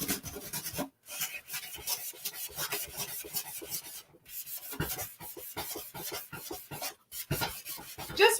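Painted wood being distressed by sanding and rubbing, heard as close, irregular scraping strokes in bursts with brief pauses between them.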